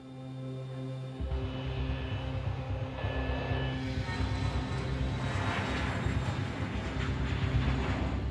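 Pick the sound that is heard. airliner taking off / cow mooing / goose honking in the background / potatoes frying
airliner taking off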